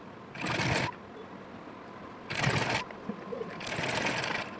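Sewing machine stitching a blouse sleeve runs in three short whirring bursts of about half a second each, separated by quieter pauses over a steady low room hum, close by.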